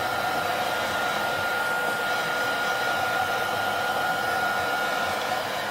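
Heat gun blowing hot air across a phone's LCD screen assembly during removal, a steady, loud, unbroken airflow roar holding level for the whole stretch with no talking.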